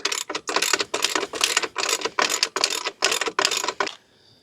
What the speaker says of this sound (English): And tighten that one down too